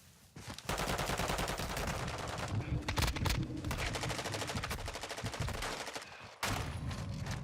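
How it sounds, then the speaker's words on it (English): Rapid, continuous gunfire in a Call of Duty DMZ match, loud and dense bursts running almost the whole time with a short break near the end, and faint voices mixed underneath. "Shotgun."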